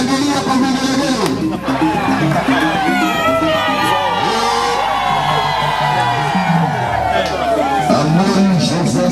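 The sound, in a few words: crowd cheering with ululation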